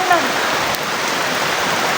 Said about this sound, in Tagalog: Ang lakas pa ng ulan.